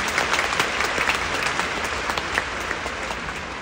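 A large audience at a concert in Sofia bursts into sustained, dense applause, many hands clapping at once in a steady roar that carries on evenly from start to finish.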